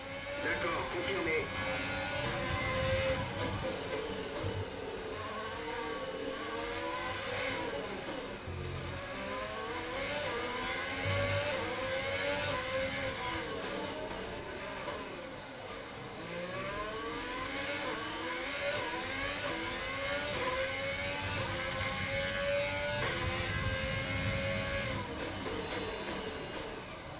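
A Formula 1 car in the F1 2020 video game races through rainy qualifying in Singapore, its engine wailing and repeatedly climbing through the revs with quick gear shifts, loud and continuous beneath a voice.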